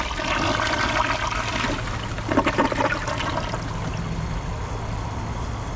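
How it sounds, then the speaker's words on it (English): A 2025 Kohler Highline Arc tall-tank toilet flushes with a strong rushing gush that swells midway, then settles into a softer draining trickle, heard close and alone. "And it took it all in a press and release flush."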